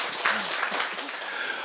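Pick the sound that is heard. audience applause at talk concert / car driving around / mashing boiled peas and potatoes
audience applause at talk concert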